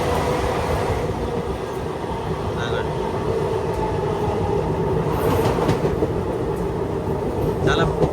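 The Kacheguda Express (17654) runs at speed between Puducherry and Kacheguda near Arakkonam Junction, giving a loud, steady rolling rumble with rattling carriages throughout and faint wheel clicks.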